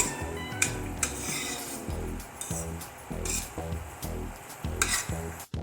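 Broken wheat porridge roasting in ghee in a pan, with a steady sizzle, repeated stirring scrapes and spoon clinks against the pot, close and fairly loud, and no talk.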